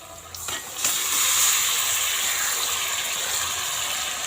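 Marinated meat drops into fried onions in a hot pan and sets off a sudden loud, steady sizzle and hiss that keeps going to the end.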